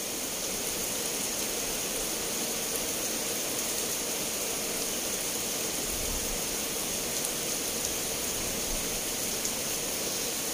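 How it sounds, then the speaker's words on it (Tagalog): Heavy rain pouring down in Negros, a dense, steady hiss of water on surfaces filling the whole stretch, loud and unbroken with no voices over it. "Boss Doy, kusok kayong ulan dre sa Negros"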